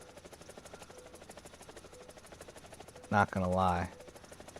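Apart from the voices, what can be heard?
attack helicopter hovering in War Thunder video game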